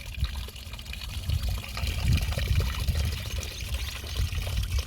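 Muddy water pours and splashes steadily close by, a continuous gurgling flow with a deep rumble underneath.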